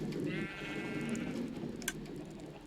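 A Minecraft sheep bleats loudly for about a second, followed by a softer background murmur and a faint click.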